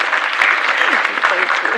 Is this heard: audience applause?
yes